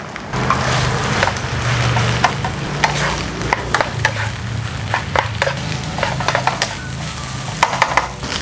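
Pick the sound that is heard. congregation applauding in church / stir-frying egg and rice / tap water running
stir-frying egg and rice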